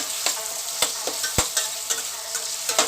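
Tofu chilli with black bean sauce sizzling in a pan while being stirred, a bright steady fry marked by regular scraping and tapping strokes of the utensil.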